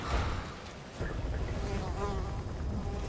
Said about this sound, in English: Flies buzzing around your head is never a good sign.